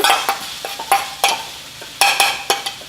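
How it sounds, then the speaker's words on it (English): Orange zest sautéing in a pan for orange chicken, with repeated sharp scrape-and-tap stirring strokes over a soft sizzle, close and fairly loud, no talking. "how long do you saute it with the zest?"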